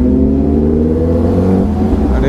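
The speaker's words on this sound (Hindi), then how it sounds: "अपना गाड़ी हो रहा है कोल स्टार्ट, एंड कोल स्टार्ट में बहुत चिल्लाता भाई" A superbike in Kolkata idles loudly on a cold start, its engine holding a steady, rough, throbbing drone close by with slight rises in pitch.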